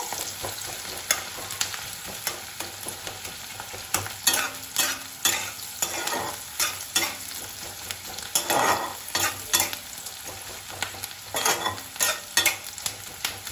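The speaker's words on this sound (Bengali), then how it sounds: "আমি পেঁয়াজটা একটু ভাজা ভাজা করে নেব।" Onions sizzle steadily in a hot pan over high flame while a utensil scrapes and stirs in repeated bursts, close and fairly loud.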